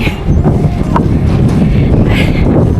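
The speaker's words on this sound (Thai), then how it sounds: "อ่ะลมดี" Strong wind buffets the microphone outdoors in the Dolomites, a loud, continuous rumbling gust with fluttering low-end bursts and no speech.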